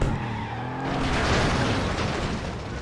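A race car in the FlatOut video game skidding and crashing into a tyre barrier, a loud, dense roar of engine, tyre scrub and impact noise lasting a few seconds.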